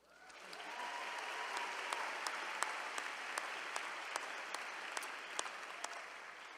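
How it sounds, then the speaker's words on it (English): Sustained applause from a commencement audience at UC Berkeley's Rausser College of Natural Resources ceremony, a dense steady clapping wash with sharper individual claps standing out, loud and continuous throughout. "let's get another round of applause for you"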